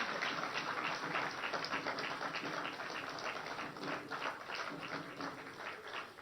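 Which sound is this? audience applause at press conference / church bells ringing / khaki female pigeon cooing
audience applause at press conference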